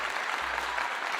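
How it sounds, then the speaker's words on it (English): Crowd applause for Colorado wide receiver Xavier Weaver at a football game against UCLA, a dense, steady wash of clapping held at an even level from start to finish. "Let's give him a clap."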